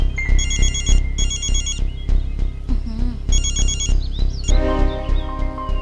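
A loud electronic phone ringtone chirps in repeated melodic bursts over a thumping background beat, the tone pattern cycling several times, in a Hindi action film.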